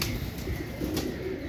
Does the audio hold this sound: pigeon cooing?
yes